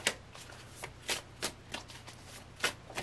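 Tarot cards shuffled by hand, several quick crisp riffling bursts with short pauses between them, close and fairly quiet with no talking.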